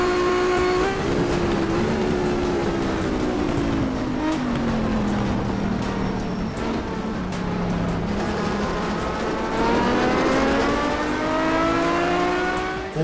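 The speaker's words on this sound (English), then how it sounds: "The cars sound like tuned down F1 cars." Sustained high-pitched Turismo Carretera racing engines in a sim racing game whine continuously, pitch rising and falling with shifts and acceleration, loud and steady throughout with no talking.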